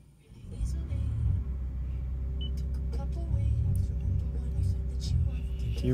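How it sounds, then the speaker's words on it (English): Lexus RX450h hybrid fitted with a prototype lithium battery starting up: quiet at first, then a low engine rumble kicks in after half a second and holds steadily, with faint higher sounds above it. "firing out the car for the first time with the Lithium prototype"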